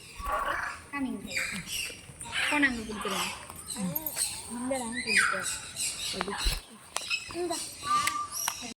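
Parrots squawk repeatedly in an outdoor bird park, loud and close, mixed with children's and adults' voices talking nearby.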